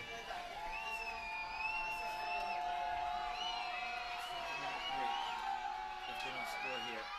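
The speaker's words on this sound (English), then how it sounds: "Crowd's getting into it." Crowd noise at a varsity field hockey game between Darien and Staples, a sustained swell of cheering and whooping with excited shouts rising over the din, heard at a moderate distance.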